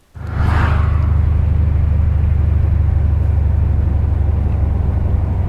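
A 1984 Buick Regal's LS-swapped V8 engine roars to life and holds a loud, deep, steady rumble close by, continuous throughout.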